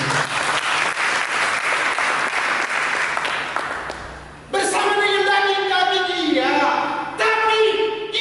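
Congregation applause during a church sermon service, a steady wash of clapping for about four seconds that fades out, followed by a loud sung or spoken amplified voice.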